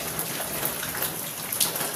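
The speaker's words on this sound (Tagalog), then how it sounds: "Lakas pa rin ng ulan ngayon." Heavy evening rain pours steadily, a dense broadband hiss of drops striking surfaces with faint splashes, continuous and close, no voices.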